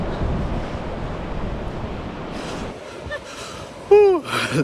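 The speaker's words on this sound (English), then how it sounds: "The waves are quite big actually." Big waves roll and break along the North Sea shore at South Shields around sunrise, a broad steady rush of surf with some wind noise, thinning out near the end as a few brief sounds cut in.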